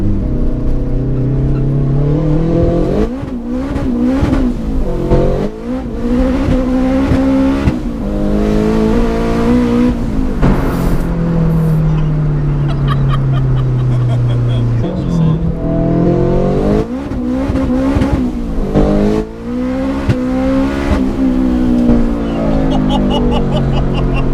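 Turbocharged 377 bhp Honda DC5 pulling hard on a B road, engine revs climbing and dropping through repeated gear changes, loud and close from inside, with voices talking over it.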